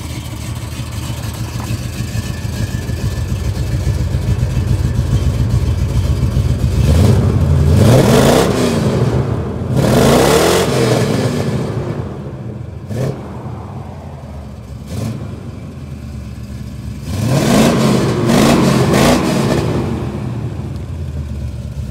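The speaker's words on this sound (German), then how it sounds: "Also wie ihr hört, der springt super an und der springt auf Gas an." A 1985 Chevrolet C20 pickup's V8 idles with a deep rumble and is revved in several loud bursts, then settles back to idle between them.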